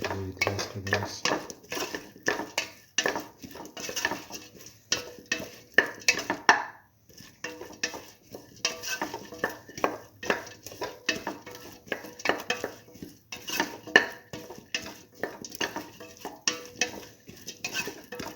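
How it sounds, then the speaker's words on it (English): A spoon stirs split mung beans and potato through a stew mix in a pot, giving close, repeated metallic clinks and scrapes with a brief pause partway, and no talking. "Mix the split mung beans that way with the rest of the mix."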